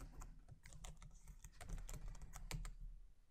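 Steady, fast typing on a computer keyboard, close and quiet, with rapid clicking keystrokes and no talk.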